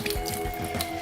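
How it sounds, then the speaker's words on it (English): Water poured out of a glass sprouting jar holding rinsed sprouts, a close, steady splashing drain lasting about a second with small gurgles and drips, no voices. "and just pour the liquid out."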